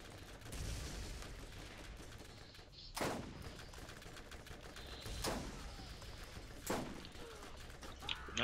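Gunshots ring out while shooting enemies in Borderlands at Headstone Mine: four sharp, fairly quiet single shots spaced a few seconds apart over a steady background hum of the game, with no talking.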